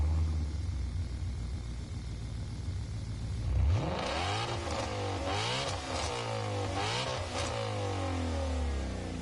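A Mustang GT engine of around 700 horsepower in Gran Turismo Sport cranks and fires up, then revs repeatedly in deep rising and falling roars, loud and close, with nobody speaking.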